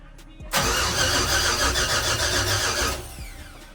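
A Ford F100 pickup with an LS engine swap cranks over loudly up close, with a steady rhythmic starter churn running for about two and a half seconds without catching before it cuts off.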